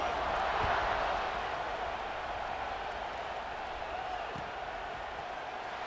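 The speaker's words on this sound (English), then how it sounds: "this crowd is feeling themselves after that last drive" A stadium crowd in the EA Sports College Football 26 video game roars and cheers as a steady wash of noise, loudest at the start and then holding level throughout.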